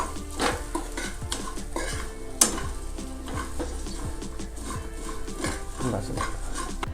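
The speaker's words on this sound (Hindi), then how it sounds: "अब ये इन्हें हम फिर से मुरमुरों को इनमें छोड़ देंगे और ये जो अच्छे से फिर से फ्राई कर लेंगे हम एक बार।" Puffed rice and peanuts fry in ghee in a pan, with a soft steady sizzle under repeated scraping and stirring clatter from a utensil and one sharper clank partway through.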